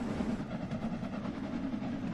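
Jubilee-class steam locomotive 45703 Thunderer heading a train in a train simulator game, on the Cornish main line: a steady low rumble of running wheels and engine, continuous and fairly close, with no voices.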